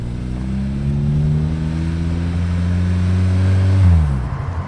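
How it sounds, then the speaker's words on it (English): A loud race car engine revs for a burnout at a track and holds at high pitch, rising steadily then swooping back down near the end, close and continuous. "let's get to the burnout part"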